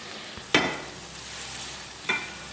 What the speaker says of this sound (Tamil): போட்டு நல்லா வதங்கிறது தக்காளி பாருங்க.